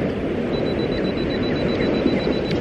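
A camera's 2-second self-timer beeps as a thin, faint high tone across the middle of the clip, over a steady broadband wash of wind and surf on a seaweed-covered shore with the tide rushing in. No one speaks.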